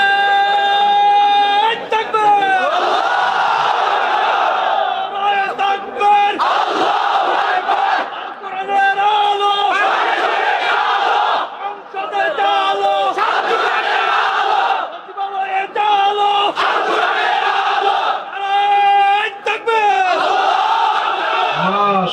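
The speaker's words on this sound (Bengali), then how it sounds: "একজন স্লোগান দেন তো দেখি।" A large crowd at a religious gathering in Bangladesh chants a slogan in loud, rhythmic unison, with bursts of massed shouting repeating every couple of seconds and a lead voice calling out between them.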